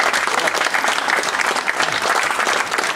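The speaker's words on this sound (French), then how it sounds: "Et je crois qu'on peut l'applaudir pour ça." An audience at a summer clay-art exhibition applauds a ceramic artist who won the Bernard Palissy prize, with steady, close, loud clapping that fills the whole moment without a break.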